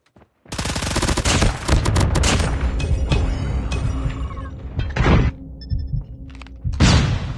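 Rapid automatic gunfire rattles in the mobile shooter Call of Duty Mobile, loud, close bursts running several seconds, then pausing and resuming with short sharp volleys and mechanical clicks between.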